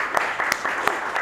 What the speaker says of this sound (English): So, big round of applause for everyone in the gallery.